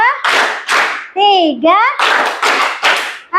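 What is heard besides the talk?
classroom hand clapping in counted rhythm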